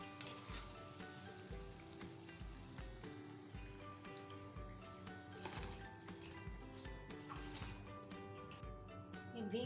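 Dahi phulkiyan frying in hot oil, a continuous faint bubbling sizzle with light crackles under a soft background music bed, with no talking.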